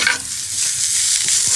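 Freshly minced ginger drops into hot oil and sizzles loudly, a bright hissing burst right up close that settles into a steady crackle, with no one speaking.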